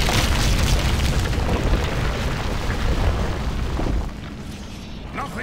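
A structure collapses in an explosion in Battle for Middle-Earth II: a loud, rumbling boom with crackling debris that holds for about four seconds and then drops to a quieter rumbling tail.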